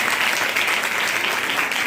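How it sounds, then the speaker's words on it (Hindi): Loud, sustained applause from an audience honouring teachers at a women's college student award ceremony, dense clapping that stays steady throughout with no voices over it. "अपने गुरुजनों के लिए भी जोरदार तालियां बजा दीजिए।"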